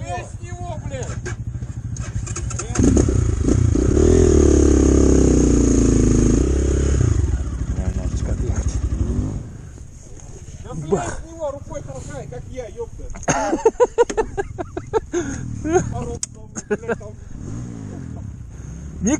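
A Chinese enduro motorcycle's engine revs loudly and roughly at close range during a muddy trail ride with water crossings, with clattering bursts and people talking over the engine noise.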